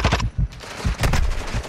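Rapid video-game gunfire, loud close bursts of automatic shots in quick clusters with short gaps between them.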